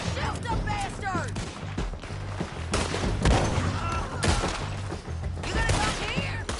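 Rapid gunfire in a Red Dead Redemption 2 shootout by a bridge and a boat, with repeated close shots and bursts crackling throughout while several voices shout over the fight.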